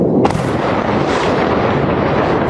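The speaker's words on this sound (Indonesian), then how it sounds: "beberapa rudal tetap menghantam area pusat Israel dan menimbulkan gelombang ledakan yang terdengar luas" Missile strikes hitting central Israel around Tel Aviv: a loud close blast with a sharp crack, then a long rumbling roar of explosions that fills the whole clip.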